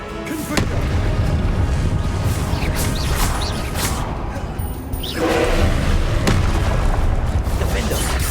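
Fire-blast spells bursting in the Hogwarts Legacy video game, loud booming explosions with crackling debris during spell-heavy combat, several blasts spread across the clip over a dense, continuous game soundscape.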